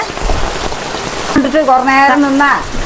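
Steady patter of rain on a surface fills the clip, with a voice speaking partway through over the downpour.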